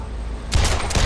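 Gunfire breaks out in a rapid burst of loud, sharp shots after a short stretch of low rumbling background, with several cracks following each other closely.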